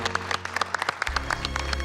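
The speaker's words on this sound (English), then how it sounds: "Please give a big round of applause to our very special guest, Colonel Hadfield." Studio audience on a cooking competition set claps in a short, uneven burst of individual hand claps over a low steady hum.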